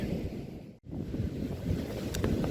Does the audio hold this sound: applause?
no